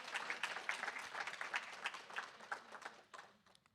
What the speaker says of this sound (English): Please, can we give them a round of applause one more time?